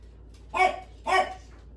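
Two clear barks from a dog in a home kitchen, moderately near, followed by a fainter third yip, with quiet room noise between them.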